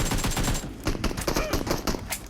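Rapid gunfire from a PUBG Mobile team deathmatch fight, dense bursts of shots crackling close and loud across the whole stretch with no talk over it.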